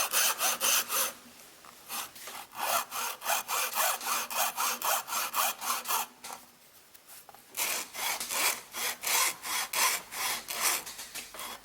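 A hand saw scoring around a golf ball held in a vise, steady rhythmic back-and-forth strokes, close and crisp, with a short pause midway before the sawing resumes.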